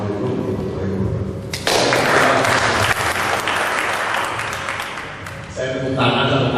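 An audience at an alumni association candidate presentation applauds, a loud, dense wash of clapping with music or other sounds mixed in and shifting in level.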